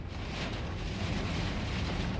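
Strong wind blowing during a tornado storm, a constant roaring rush of gusts buffeting the microphone, loud and unbroken throughout with no voices.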